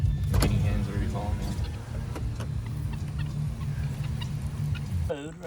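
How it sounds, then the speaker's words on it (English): Guinea hens in rural Georgia cluck and call in brief bursts, fairly near, over a running car engine with people talking and the hum of a power window near the end. "Guinea hens, whatever you call"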